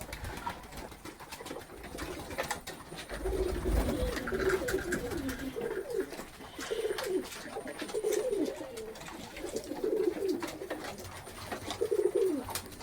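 Soft, repeated cooing of pigeons nearby in a loft, low throaty calls recurring every second or so, with faint rustling and background hiss.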